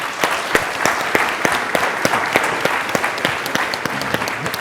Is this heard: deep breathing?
no